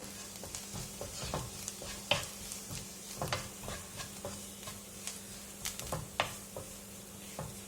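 Spice powders, including garam masala, fry in coconut oil for an okra curry. A soft, steady sizzle runs under light clicks and scrapes from stirring. It is quiet and close, with no talk.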